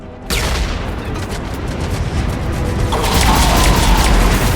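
Gunfire and explosions in the video game Mass Effect 3 erupt abruptly into a dense, loud, continuous barrage of shots and booms that builds slightly louder toward the end.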